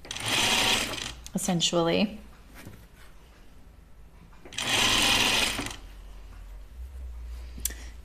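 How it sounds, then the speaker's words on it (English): A sewing machine stitches a quarter-inch seam on a dress neckline in two loud, close bursts of steady whirring, separated by a pause in which a voice speaks briefly. "I'm sewing this at a quarter inch seam right here"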